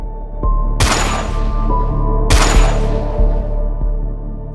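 Two loud gunshots in the Roblox Brookhaven roleplay game, each a sharp blast with a fading tail, spaced about a second and a half apart over a steady game background hum.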